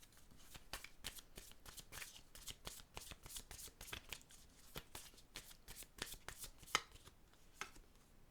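A tarot deck is riffled and shuffled in rapid, dense clicking bursts that run steadily throughout, close but soft, with a few sharper snaps as cards are drawn.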